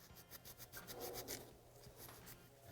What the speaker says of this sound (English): I'm just gonna clean them real quick with the Scotch-Brite.